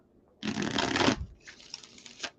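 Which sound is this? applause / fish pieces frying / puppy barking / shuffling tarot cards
shuffling tarot cards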